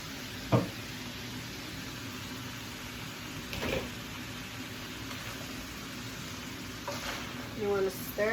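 Green beans fry in a full pot with a steady low sizzle, broken by a few brief scraping and clattering stirs of a utensil against the pot.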